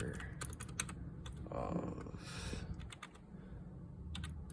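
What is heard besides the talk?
typing on a computer keyboard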